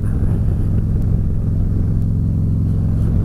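A motorcycle rides along the road on a 40-degree day, its engine a loud, steady low rumble with continuous wind and road noise close to the rider.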